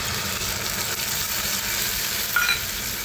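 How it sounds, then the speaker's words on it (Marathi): Tomato puree goes into onions already frying in a pan for a Marathi bottle gourd curry, giving a steady, even sizzle and hiss throughout with no talking. "आता याच्यामध्ये टोमॅटोची प्युरी घालूया"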